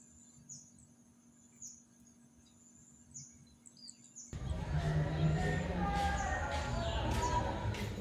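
A caged oriental magpie-robin kept on a cricket diet gives faint, repeated high chirps over quiet background, then a sudden loud wash of broadband noise largely buries them.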